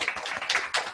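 Scattered clapping from a virtual meeting audience thanking panelists at a palliative care event, a few quick broadband claps with short bursts, fairly quiet and brief.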